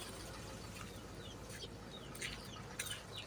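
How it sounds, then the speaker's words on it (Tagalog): Chickens, including fighting cocks and hens, cluck softly in the background, a few scattered calls over a low steady hum, faint and somewhat distant. "May mga manok kami."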